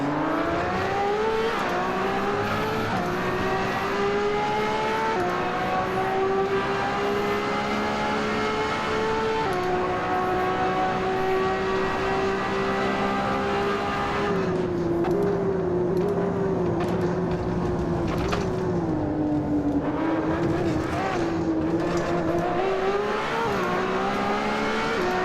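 Race car in Assetto Corsa, a close, steady engine note climbing through the revs and dropping under braking across several acceleration and braking zones, loud throughout with no talk.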